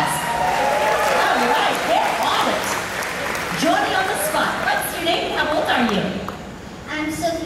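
Audience applause at the Indiana Jones Epic Stunt Spectacular at Disney's Hollywood Studios, a steady wash of clapping from a large outdoor crowd that continues under a presenter's amplified talk.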